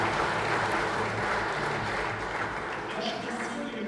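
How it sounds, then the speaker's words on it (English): An audience applauds at an international business conference in Moscow, dense continuous clapping filling the hall and fading slightly toward the end. "Let's applaud to each other."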